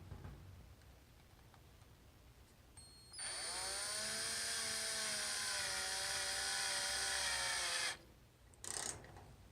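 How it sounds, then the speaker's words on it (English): A power drill bores a hole through a furnace's hot air duct, a loud steady whine with a brief trigger blip, then a sustained grinding run that stops abruptly before a short final burst. "I'm going to use this drill to drill a hole through the furnace hot air duct"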